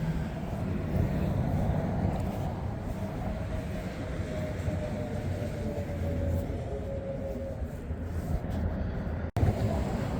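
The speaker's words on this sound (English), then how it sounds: "I'm kind of right next to a busy road, interstate, so you can hear the traffic" Traffic on a busy interstate highway passes close by, a steady broad roar of rolling vehicles that holds for the whole stretch, with a brief dip and a sharp knock near the end.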